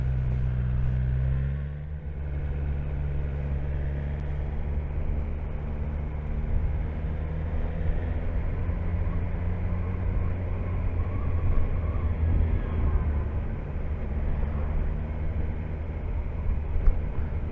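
Steady engine drone and wind rumble while riding a BMW motorcycle, either an S1000R or an R1250R, continuous and fairly loud throughout, with a brief dip in the sound near the start.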